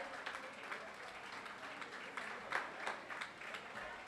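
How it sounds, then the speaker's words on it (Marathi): Applause rises from an audience at a school reunion of the Samarth Vidyalaya 1985 batch, welcoming an honoured teacher. It sounds like a faint, steady crackle of many hands clapping, with a hint of voices beneath. "जोराच्या टाळ्या येऊ द्या"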